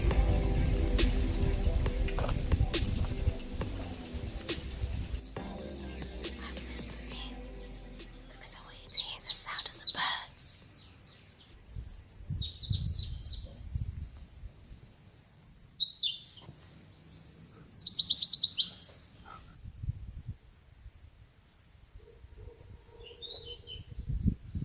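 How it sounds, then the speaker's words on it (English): Outdoors on a permaculture farm in the Canary Islands, several birds chirp and sing in short, bright bursts, scattered near and far against a quiet background after a louder, noisy opening. "All these birds and all of nature here."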